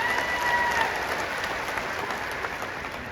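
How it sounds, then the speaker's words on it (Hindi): An audience at a political stage event breaks into loud, sustained applause, a dense wash of many hands clapping with no break. "एक बार जोरदार ताली से इनका स्वागत कीजिए।"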